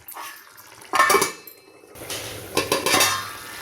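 A metal lid clatters onto a pot of egg curry simmering with curry leaves, giving two short bursts of clanking, close and fairly loud, with nothing else around them.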